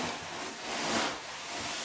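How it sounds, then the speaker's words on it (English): A hot iron pressed onto wet ripstop nylon during dyeing gives off a steady, close steam hiss that swells briefly in the middle and does not let up. "because it's such a hot iron, it actually steams"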